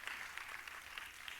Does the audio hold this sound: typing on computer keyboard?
no